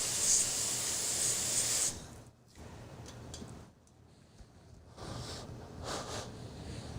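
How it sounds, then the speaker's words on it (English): Freeze spray blasts onto a coil on an iPhone circuit board in short hissing bursts: a long loud spray, then several briefer, quieter puffs with pauses between. "So we're going to freeze spray it"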